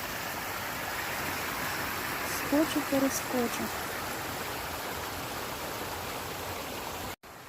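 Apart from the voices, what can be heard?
small river flowing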